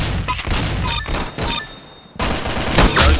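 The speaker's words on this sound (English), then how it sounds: "That's some beautiful shooting right there." Rapid video game gunfire in a speedrun, a quick run of loud, close shots with a short pause before a heavier burst.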